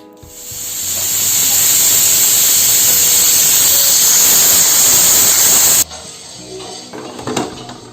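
A stovetop pressure cooker releases steam in a loud, continuous hissing whistle for about six seconds, then cuts off abruptly, leaving quieter kitchen clatter.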